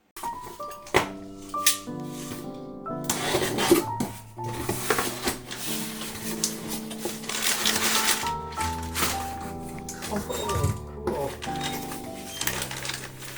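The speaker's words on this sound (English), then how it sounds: "I'm going to let Aladino open the Bolt Depot box now because I know he's really looking forward to that" A cardboard Bolt Depot box holding bronze carriage bolts is opened and unpacked, giving a run of rustling, tapping and clinking handling sounds, fairly close and moderately loud, with voices in the background.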